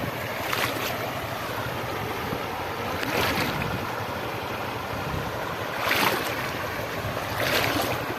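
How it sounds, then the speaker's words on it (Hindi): Steady rushing of a clear, shallow river flowing around legs as someone wades across on foot during an off-road trip, a continuous wash with gentle surges and wind. "क्योंकि ये पानी चलता हुआ है, पानी चल रहा है"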